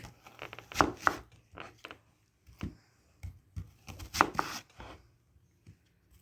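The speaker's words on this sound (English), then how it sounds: "So I'm just chopping up an onion." Irregular knife chops through an onion thud against a cutting board, a series of sharp taps in uneven bursts with brief pauses between.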